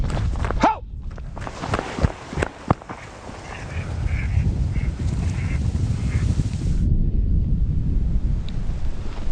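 A flock of ducks on a pond quacks as the birds take off, with a few loud close calls and splashy clatter at first, then a steady rush of wings, water and wind noise.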